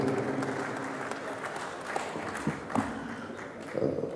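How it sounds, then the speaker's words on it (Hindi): An audience at an international Urdu mushaira in Muscat, Oman applauds to welcome a poet, a dense, steady wash of clapping with a few sharper claps standing out over about four seconds. "ज़ोरदार तालियों से उनका इस्तक़बाल कीजिए।"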